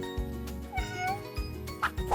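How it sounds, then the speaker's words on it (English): A cat gives a short, rising meow over soft rhythmic background music, fairly clear and close, with a couple of faint voice fragments near the end. "¡Es un gato!"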